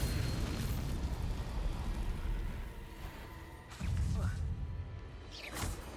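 Bombarda blasting spell explosions in the video game Hogwarts Legacy: two booming bursts, one midway and another near the end, rising over a steady rumble of game ambience.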